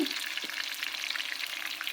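Close, steady sizzling of tomatoes frying in hot oil for a pickle, with a couple of soft stirring knocks.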